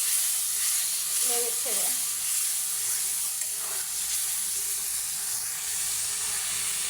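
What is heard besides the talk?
spice paste frying and sizzling in a pan for beef curry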